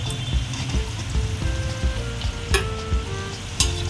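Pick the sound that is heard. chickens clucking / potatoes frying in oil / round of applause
potatoes frying in oil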